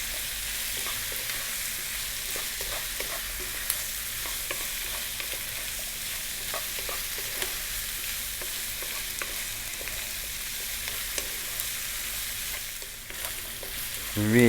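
Pork belly seasoned with salt and ground black pepper fries over high heat in a pan, a steady loud sizzle broken by the scrape and clatter of stirring, continuous throughout with a short burst of louder handling at the end.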